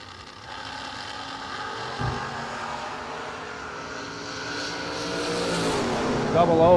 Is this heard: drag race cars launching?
yes